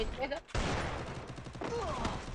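Gunfire in a shooter video game, a burst of rapid shots at the start, then a sharp report followed by steady clattering bursts, with a voice talking over parts of it.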